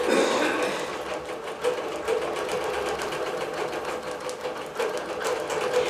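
A digital quilting machine stitches a row across a quilt, humming at a steady moderate level with a rapid mechanical patter and small swells in loudness.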